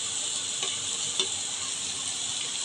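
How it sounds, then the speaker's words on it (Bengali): Carrots and capsicum frying in a hot pan for homemade egg chow mein, a steady dense sizzle with a couple of soft stirring scrapes, close and even, no voices. "এখন আমি গাজরগুলো দিয়ে দিচ্ছি, ক্যাপসিকামও দিয়ে দিচ্ছি"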